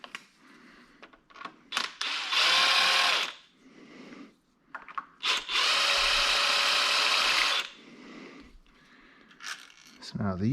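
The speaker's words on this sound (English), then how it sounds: "obviously I gotta take the bolts out." A power drill spins out bolts from the solenoid body of a 6F55 transmission on an Ecoboost SHO, in two long loud whirring bursts close by, with short tool clicks and handling noise between them.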